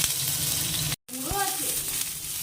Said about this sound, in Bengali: এবার এর মধ্যে উচ্ছেটা দিয়ে দেবো উচ্ছেটাকেও একটু লাল করে ভেজে নেবো